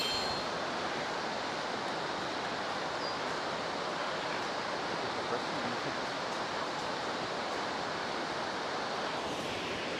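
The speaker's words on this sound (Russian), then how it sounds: "О, это первый водопад." Cascada de Arripas waterfall in the Ordesa valley of the Pyrenees gives a continuous, even roar of falling water, broad and steady with no breaks, heard from a viewpoint.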